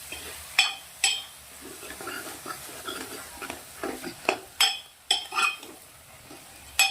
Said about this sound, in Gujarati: હવે આપણે આને ભાજીને મસ્ત મિક્સ કરી દેવાની છે.